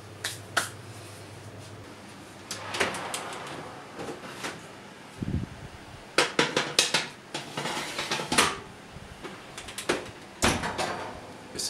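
Clattering metal knocks and sharp clicks come from a home oven door and trays as baguettes are loaded in to bake, with irregular close taps and one deeper thud partway through.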